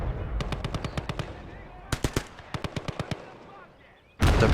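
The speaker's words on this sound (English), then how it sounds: "So before I can get to the field gun, I need to take out this machine gun." Machine gun fire in the Eastern Front war game Gates of Hell Ostfront: several short, evenly paced bursts of sharp shots, moderately distant, separated by pauses, ending with a sudden louder blast of noise.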